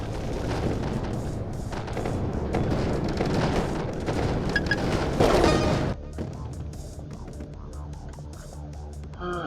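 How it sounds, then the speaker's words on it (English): Heavy gunfire and explosions in the mech roguelike video game RIG Riot, a loud dense barrage of booms and blasts that cuts off abruptly, leaving quieter game sounds with a voice talking over parts of it. "I'm taking some heavy fire."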